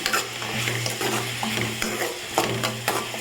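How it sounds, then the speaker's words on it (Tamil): Tomatoes sautéing in a pan for a Tirunelveli-style yam tamarind curry, a steady close sizzle with repeated scraping and stirring strokes, loud and continuous with no talking. "நமக்கு தக்காளி நல்லா வதங்கிட்டு இருக்குது"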